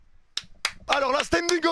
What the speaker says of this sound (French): Oh alors là, oh j'applaudis.